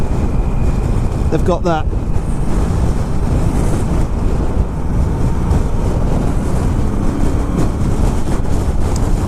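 Wind roaring past motorcycles on a ride, a constant loud buffeting rush over the mic with a brief chirping sound near the start and a short spoken remark early on.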